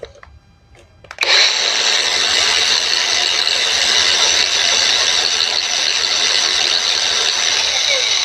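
A DEKWE DK2448 cordless angle grinder switched to speed 2 spins up after about a second of near quiet, then holds a loud, steady high-pitched whine with no voices over it.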